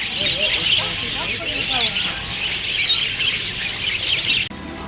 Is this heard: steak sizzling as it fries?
no